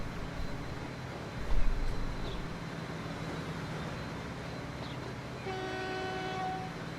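A train rolling in the railway game Transport Fever 2, a steady low rumble with a thud near the start and a sustained horn tone toward the end.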